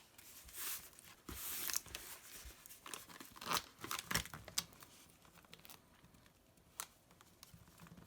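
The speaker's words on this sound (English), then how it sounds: "it takes a little bit of effort to really pinch and seal with the tape." Packing tape pulled and pressed onto a cardboard shipping box, giving faint close tearing, crinkling and rubbing sounds in short uneven bursts, quiet overall with no talking.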